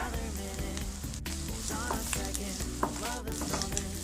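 Chopped carrot and green chilli fry lightly in oil, a dense continuous sizzle with constant stirring scrapes over it; close and steady, no voices.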